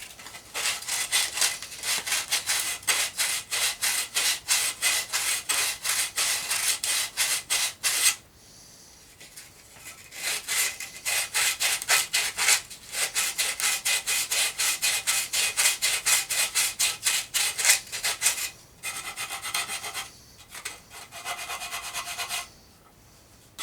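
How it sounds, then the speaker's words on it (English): Sandpaper worked by hand along the edge of a wooden heel block to round it over: rapid rhythmic back-and-forth rasping strokes in long runs, broken by short pauses, close and fairly loud, with no talking. "Now I'm going to put a little round over on the edge, both sides. Do that also with sandpaper."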